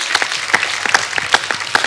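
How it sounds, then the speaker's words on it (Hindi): A studio audience applauds loudly, with clapping that comes in clear, fairly regular rhythmic bursts up close and no voices over it. "एक जोरदार तालियां बिल्कुल ये वरुण और इनकी टीम के लिए"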